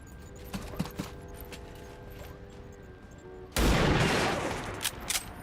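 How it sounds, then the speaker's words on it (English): Sniper rifle fire aimed at a turret in XCOM 2 erupts as a sudden loud gunfire burst partway through, preceded by quiet ambient game hum and light clicks, then tails off with scattered cracks. "we can now use our snipers to take out the turret"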